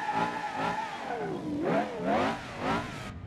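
Aston Martin V12 engine in the BeamNG.Drive racing game revving in repeated rising and falling surges, a smooth whirring growl that swells and dips several times, moderately loud with no talk.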